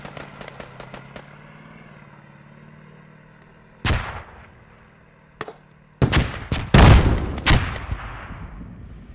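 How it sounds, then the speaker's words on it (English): Explosions and gunfire in a multiplayer war video game, with RPG blasts among them: a rapid string of sharp shots at the start, then isolated loud bangs, followed by a dense cluster of booming blasts with decaying rumble near the end. "I can hear the explosions of RPGs."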